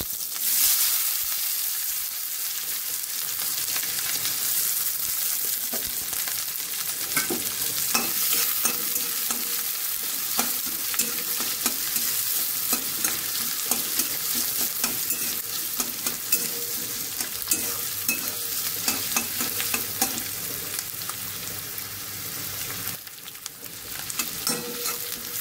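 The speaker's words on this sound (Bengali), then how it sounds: "আর পেঁয়াজ ভেজে নেব।" Dried red chillies and onions frying in oil, giving a continuous bright sizzle close up, with frequent scraping and tapping of a spoon stirring them in the pan and no talk.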